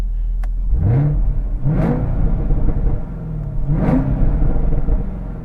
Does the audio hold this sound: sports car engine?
yes